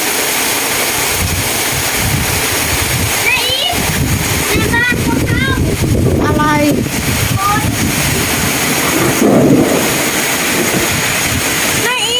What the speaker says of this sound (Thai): ฝนตกอย่างบ้าคลั่งอย่างกระหน่ำมากเลย